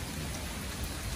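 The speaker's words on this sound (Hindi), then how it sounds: "बारिश हो रही है काफ़ी" Steady heavy rain falls in a dense, continuous hiss of drops on surfaces, evenly loud throughout with no voices.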